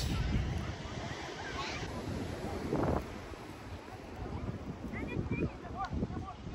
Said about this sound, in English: Look at the size of this beach.